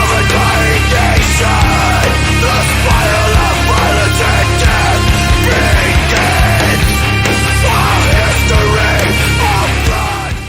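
A hardcore song plays loud and dense throughout, with brooding heavy bass, driving distorted guitars and pounding drums forming a menacing, unbroken wall of sound.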